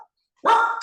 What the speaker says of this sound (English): That's Penny, my dog.